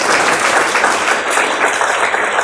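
Audience at a Sydney AWS user group meetup giving a round of applause, dense steady clapping from many hands throughout, fairly loud and close.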